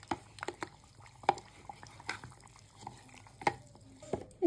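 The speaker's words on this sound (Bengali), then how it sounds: "একটুখানি চামচ দিয়ে মিশিয়ে নিচ্ছি।" A spoon mixes rice flour and semolina with hot water in a bowl, making faint wet stirring and sparse light taps against the bowl's sides, close and quiet.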